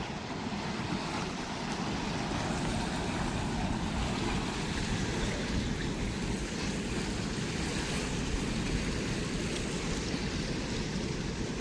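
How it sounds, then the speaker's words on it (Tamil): Steady rushing water pours continuously out of a pond through an underground bunker outlet, a dense broadband roar with no pauses and no voices, fairly close. "இதெல்லாம் குளத்துலேருந்து தண்ணி வெளியேற பக்கம்."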